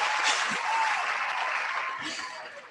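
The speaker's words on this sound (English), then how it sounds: "Where are these hand claps at, man?" A small group gives a guest on a talk show a round of hand-clapping applause, a steady wash of claps that fades slightly toward the end, with a voice briefly audible underneath.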